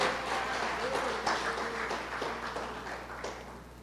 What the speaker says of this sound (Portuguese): Você quer aplaudir? Aplauda ao Senhor.